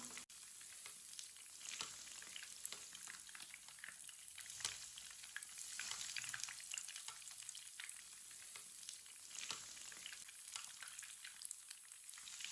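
Food sizzles and crackles steadily as it fries in oil in a home kitchen, with scattered pops and occasional stirring sounds and no talking.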